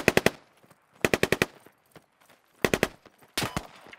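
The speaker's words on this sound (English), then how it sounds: "Squad 2 is taking shots at us by accident." In the Squad video game, a friendly squad's automatic rifles rattle off in several short, sharp bursts separated by brief silences, fairly distant and moderately quiet.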